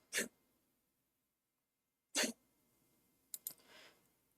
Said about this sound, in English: My geriatric dog is sneezing.